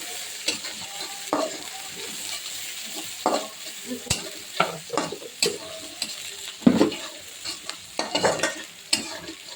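Onions frying in a pan for fish bhuna, a gentle sizzle broken by repeated scraping strokes of a spoon stirring, irregular and close.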